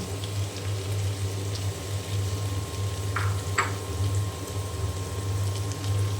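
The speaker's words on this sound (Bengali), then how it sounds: "এখন আমি ঢেঁড়সটা দিয়ে দিলাম" Okra tipped into hot oil with already-fried onion and green chili sizzles in a steady, even hiss, broken only by a couple of faint clicks from the pan.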